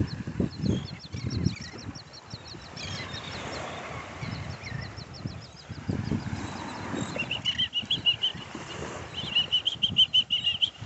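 Birds on a beach on Gasparilla Island flap their wings in repeated soft bursts, with goose-like honks and chattering calls mixed in, close and lively over steady outdoor noise.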